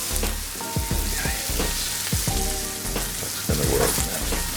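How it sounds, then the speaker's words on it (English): Food stir-fried in a wok over high heat for a Spanish omelette, with repeated bursts of loud close sizzling and scraping strokes in a steady rhythm, and no voices. "I've got the wok on high sear, so that's why I keep kind of stir frying it."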